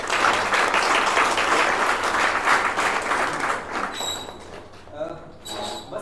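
Loud, sustained applause from a crowd, steady clapping that thins out toward the end as a few tones ring over it.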